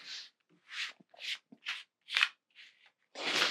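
Tarot cards being shuffled in several quick riffling bursts separated by short pauses, close and fairly quiet, ending in a longer, louder flurry.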